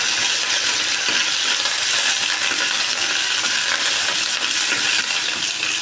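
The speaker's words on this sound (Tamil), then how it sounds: "கருவேப்பிலையை நல்லா கிண்டிக்கலாம்." Curry leaves and urad dal fry in hot oil for a chilli chutney while being stirred, making a dense, loud, continuous sizzle with faint scraping and no voices.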